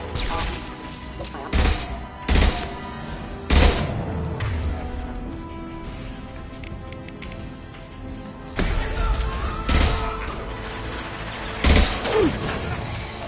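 Scattered gunshots in the Mass Effect 2 video game, several sharp loud bangs spaced irregularly over a humming mechanical background, with occasional game dialogue.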